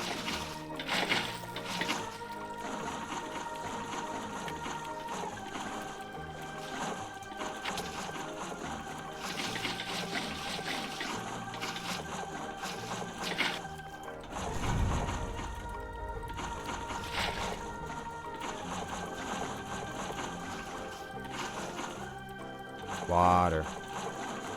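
Water flowing in the Minecraft video game, filling an area to make it fully underwater; a steady watery wash runs throughout beneath game music and sounds, with a voice talking over it.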